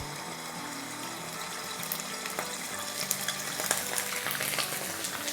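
One tablespoon each of ginger and garlic paste sizzles in hot oil for a chicken karahi, a continuous bright crackle with spatters and occasional stirring taps, close and steady, no voices.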